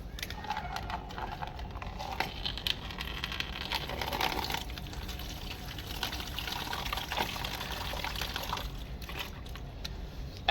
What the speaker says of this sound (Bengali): এতটা জল নিয়ে রুটটাকে একটু চুবিয়ে রাখলাম